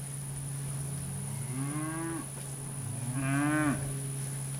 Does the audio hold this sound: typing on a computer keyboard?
no